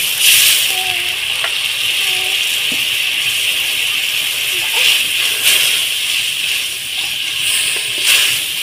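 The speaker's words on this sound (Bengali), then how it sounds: "দিয়ে একটু জল দিয়ে মশলাটাকে ভালোভাবে কষিয়ে নেব।" Spice paste of ground cumin, coriander and black pepper with green chillies and a splash of water frying for khichuri, giving a steady close hiss and sizzle with faint clinks throughout.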